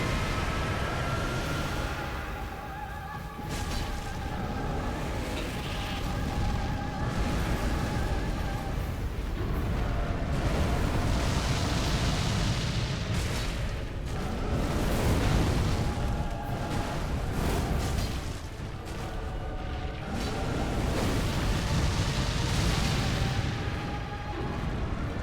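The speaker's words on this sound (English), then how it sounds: "There's gonna be an explosion." Explosions boom in Dark Souls 3 gameplay, heavy rumbling blasts rolling one after another over a dense, loud, continuous roar of game sound, with no talking.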